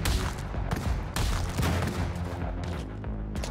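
Rapid, loud shotgun blasts ring out in the video game Madness: Project Nexus, a dense barrage of sharp repeated shots with brief gaps, close and unrelenting.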